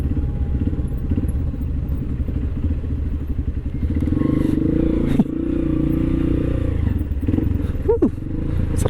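A trail motorcycle descends a steep, narrow path toward the sand sea at Bromo, its engine droning and rattling close by with shifting pitch, a few clunks and scrapes over the rough ground.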